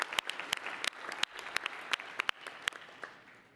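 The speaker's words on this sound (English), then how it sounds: "we should clap for the winners of this book" An audience at an awards presentation during a business meeting applauds the prize winners: a steady close wash of clapping with sharp individual claps popping out, tapering off slightly toward the end, with no talking.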